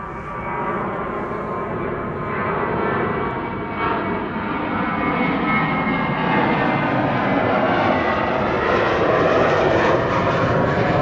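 A TUI airliner departing Amsterdam Schiphol for Bonaire gives off a loud, steady jet roar that holds and swells gently for the whole stretch, broadband and continuous with no talk over it.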